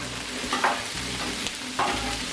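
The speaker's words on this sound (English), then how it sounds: "Stir frying on a Blackstone griddle is a no-brainer, folks." Shrimp and vegetables stir-frying on a Blackstone griddle, a steady close sizzle with scraping and stirring strokes about every second, no talk.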